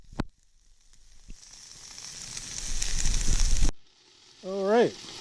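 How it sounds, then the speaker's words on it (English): Sausages sizzling on a Camp Chef FTG600 griddle, a faint hiss that swells over a few seconds and cuts off abruptly, followed by a brief voice. "These sausages are sizzling away here."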